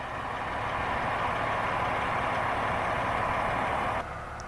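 A 2005 Peterbilt 378 truck with a 246-inch wheelbase idling, a steady, even engine rumble and hiss that holds constant and then drops slightly in level just before the end.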